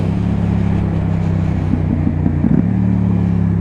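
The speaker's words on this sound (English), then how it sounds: "I personally love exhausts that have a very bassy punchiness to it, and that's definitely what I get out of this IXL Hyperlow." A motorcycle fitted with an IXL Hyperlow exhaust rumbles with a deep, bassy tone close by, and a few quick punchy blips and shifts in engine pitch suggest downshifting.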